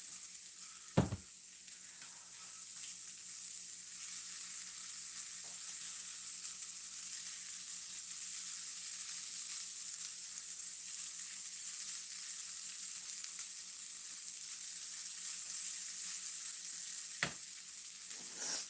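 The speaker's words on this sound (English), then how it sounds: "We're cooking the celery. We're cooking the celery. Medium high is where they want this." Celery sizzles steadily in a pan over medium-high heat, a continuous loud frying hiss that holds for the whole stretch, with a couple of brief knocks near the start and end.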